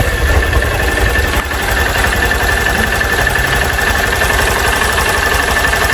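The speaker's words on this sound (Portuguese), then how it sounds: "Ih, meu filho, tá batendo biela já" A 2024 Honda Fan 160 motorcycle idling with a connecting-rod knock, a loud, close, steady mechanical rattle and throb running continuously throughout.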